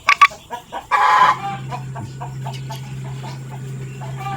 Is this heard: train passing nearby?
no